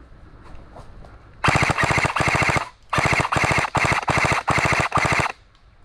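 Airsoft guns firing outdoors near woods, a long run of rapid, evenly ticking shots broken into several bursts with brief pauses, loud and close with no talk.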